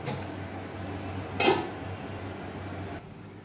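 A spoon scrapes once through shol fish and radish cooking in a pan: a single brief clatter near the middle, close and moderately loud, against a steady hum of a fan or exhaust that cuts off near the end.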